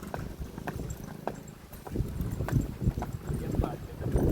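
Two mares' hooves clip-clop on hard ground at a service station where they are about to be washed, an irregular close stream of steps while a person talks over them.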